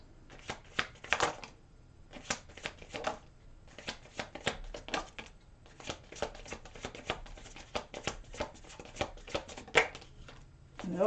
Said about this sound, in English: Let's take out the rest of these cards.